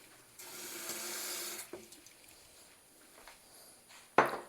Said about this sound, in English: let me give it just a little water.